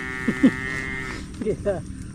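Water buffalo lowing calls, a couple of short moos early on and two more later, fairly close over a steady low background hum.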